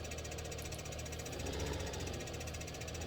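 The engine of a Farming Simulator 15 tractor knocks and chugs in a steady, rapid, rough rhythm at fairly close range, continuous and unchanging, with no voices over it.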